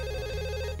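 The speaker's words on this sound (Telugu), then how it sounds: "ఫోన్ రింగ్ అవుతుందండి." Telephone ringing, a short steady electronic ring heard alone at moderate volume.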